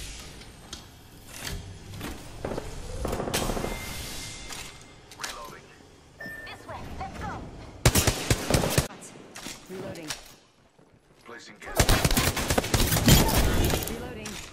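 Bursts of gunfire from the video game Apex Legends, several loud clusters of rapid shots separated by quieter stretches of game ambience, with a character voice speaking in between.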